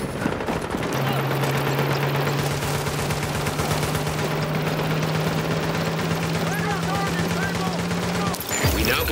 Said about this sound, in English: Turret at Alpha is active.